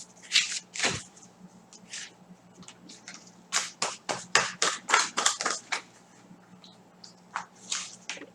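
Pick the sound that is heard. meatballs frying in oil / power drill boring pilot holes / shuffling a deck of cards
shuffling a deck of cards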